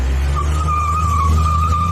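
Car tires squeal as the car pulls away, a sustained high screech held over a low engine rumble for about two seconds, close and loud.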